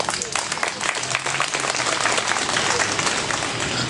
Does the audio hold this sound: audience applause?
yes